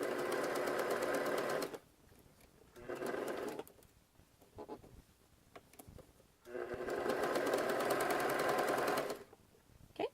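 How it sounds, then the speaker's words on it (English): A sewing machine stitches a 3-step zigzag along fold over elastic on small doll underwear, running in loud, steady bursts of rapid whirring separated by quiet pauses. "so go ahead and just sew along."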